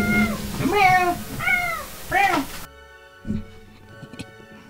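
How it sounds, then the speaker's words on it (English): A male house cat meows three or four times in quick, drawn-out calls close to the microphone indoors, then falls quiet apart from faint soft shuffling. "If you're gonna meow, you're gonna get picked up."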